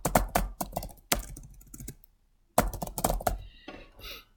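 Sharp clusters of computer keyboard typing, a few quick runs of crisp keystrokes separated by a silent gap, close and fairly loud, ending with a lighter clicky tail.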